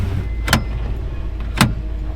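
A vehicle drives in four-wheel drive, its engine a steady low rumble, with two sharp clunks from the drivetrain about a second apart and no talking.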